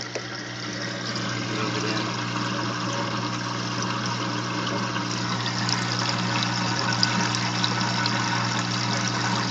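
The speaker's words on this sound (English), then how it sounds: "That is the water hitting the top trickle basket." Steady rushing and trickling of water from an aquarium sump falling into a trickle basket, over a constant low pump hum, continuous and even throughout.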